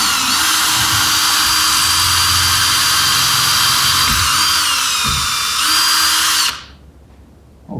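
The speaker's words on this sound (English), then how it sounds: "I'm taking this smaller drill bit and I'm gonna just drill into this little baby drill" A small power drill with a small bit bores into a wall, hitting wood behind it. The loud, continuous high whine holds for several seconds with slight pitch shifts, then cuts off abruptly into quiet.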